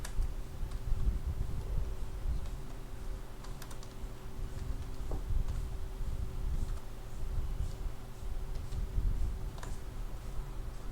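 An address is typed on a computer keyboard in a steady run of quick, close key clicks with small irregular pauses. A low, constant room hum sits underneath, and no one speaks.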